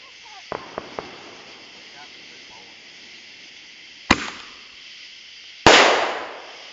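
Small fireworks show with artillery shells: a few faint pops and crackles, then two sharp booming explosions a second and a half apart, the last one ringing out, over steady outdoor wind noise.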